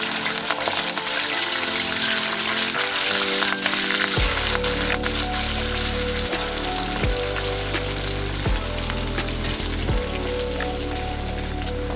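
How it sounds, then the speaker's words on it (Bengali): Potatoes frying in hot oil in a home kitchen give a steady, dense crackle and hiss that runs loud and unbroken throughout, with a low tonal hum joining partway through. "বন্ধুরা আলুটাকে আমি ভেজে নিচ্ছি, দেখতে পাচ্ছ।"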